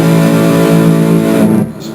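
An electric guitar strikes a distorted chord from a song's chorus, with the open high E included; it rings loud and sustained for about two seconds before cutting off, with no voices.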